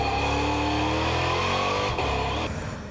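Race car engine at Magione circuit captured from an onboard camera during a Sunday race, a loud continuous high-revving roar with harmonics shifting as the driver changes gears.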